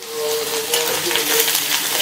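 Mustard seeds, urad dal and chopped onion crackle and sizzle in hot oil, a steady close frying hiss with small pops.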